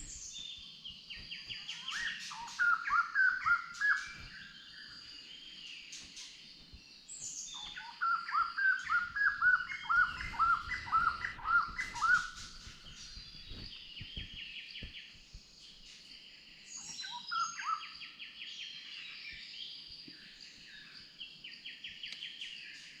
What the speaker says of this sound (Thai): เสียงนกกำลังตื่น